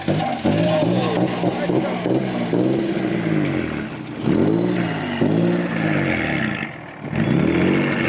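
A car engine revving hard in repeated surges while the car does donuts, rising and falling pitch with clutch kicks, never reaching redline; loud and close, with people talking over it.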